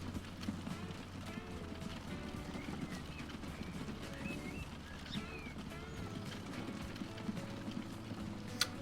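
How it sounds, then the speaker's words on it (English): Small horses in the Transport Fever 2 video game run at high speed, with quick, busy hoof clip-clops in a continuous game soundscape. "It's always amusing watching those little horses running at like triple speed."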